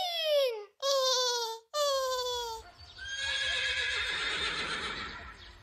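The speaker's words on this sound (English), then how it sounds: "What sound does a horse make?" A horse neighs and whinnies in three loud, shrill bursts, followed by a longer, rougher whinny with a faint low rumble beneath it, and no talking.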